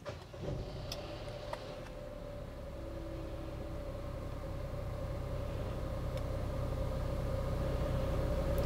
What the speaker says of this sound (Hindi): मैंने गाड़ी को ऑन किया।